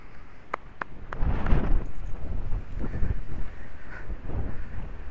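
Wind blowing outdoors during a horse-riding session, buffeting the microphone in a steady broadband rush that swells after the first second and holds fairly loud throughout.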